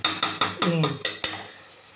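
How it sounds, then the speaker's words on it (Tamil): Seven quick, evenly spaced scraping strokes of a spoon stirring tomato rice in a pan, close and crisp, then the motion stops and the sound dies away. "சேர்த்துட்டு ஒரு வாட்டி கலந்து விட்டுருக்கோம்."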